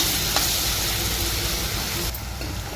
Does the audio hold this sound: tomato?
yes